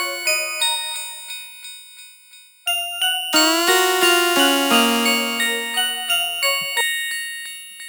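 Bright layered synth lead plays a plucky, bell-like melody in repeated rhythmic notes, thickening midway with a fuller sustained layer.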